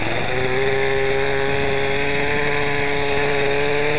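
Nitro model helicopter engine catching after the igniter is pushed, a loud, steady high-pitched buzzing whine with a harmonic drone, running continuously and close throughout.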